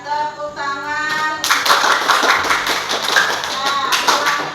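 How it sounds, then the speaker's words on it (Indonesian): A group of people bursts into lively applause after a brief voice, clapping continuously for several seconds. "Iya, tepuk tangan."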